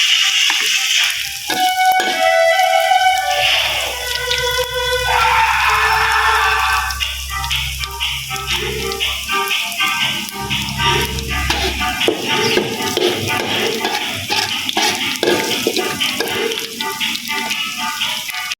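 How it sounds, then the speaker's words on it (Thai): Garlic frying in a pan for a Thai rice soup with beef, a steady close sizzle with scattered ticks and clinks of stirring running throughout, no voices. "เดี๋ยวเฮาจะมาเจียวกระเทียมใส่เนาะ"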